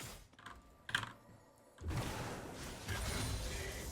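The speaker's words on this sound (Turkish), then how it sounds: "Klavye sesi mi geliyor?" Quiet, close keyboard typing with soft clicks, turning into a denser rustle of keystrokes toward the end.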